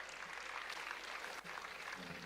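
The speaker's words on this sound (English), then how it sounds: "please join me in welcoming Honorable Mr. Justice Markande Karju with a round of applause" Audience applause for the chief guest at a young achievers summit in an auditorium, a steady dense wash of clapping throughout, moderately loud and without talk.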